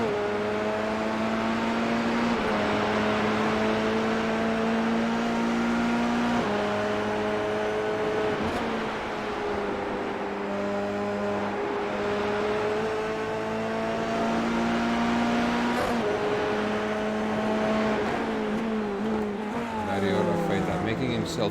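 Dallara F3 single-seater race cars run at Oulton Park, their engines howling and shifting pitch as they brake and accelerate through a small chicane, loud and continuous beneath steady commentary.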